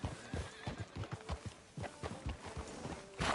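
Horse hooves clip-clop in the video game Red Dead Redemption, with steady rhythmic hoofbeats at walking pace, close and clear, and a brief whinny-like sound near the end.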